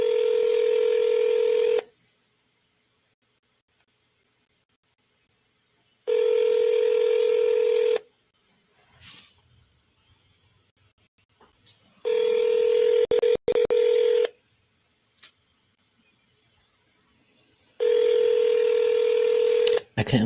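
Telephone tones on an outgoing call to a landline, with four evenly spaced steady tone bursts of about two seconds each separated by longer silences. A voice talks quietly in the gaps.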